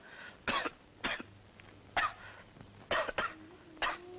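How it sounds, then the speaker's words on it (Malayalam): A person coughs repeatedly in short, sharp bursts, about seven coughs spaced unevenly, close and fairly quiet. "എന്താ ഇങ്ങനെ ചുമക്കുന്നത്?"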